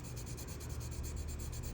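A colored pencil rubs on paper in quick back-and-forth strokes, a soft, close scratchy shading sound in a steady rhythm.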